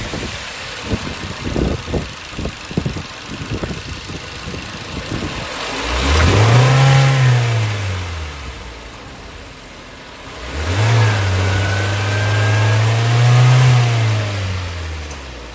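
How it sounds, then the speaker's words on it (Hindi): A 2022 Hyundai Tucson Signature HTRAC petrol engine idles, then revs up twice, each rev swelling to a loud, close rise before falling back, with a few clicks and a low hum beforehand. "आइए अब पेट्रोल इंजन की साउंड सुनते हैं।"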